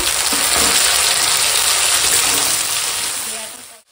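Chopped tomato and ginger-garlic paste hit hot oil with lightly fried green chilies, giving a loud, close, continuous sizzle that fades away at the very end.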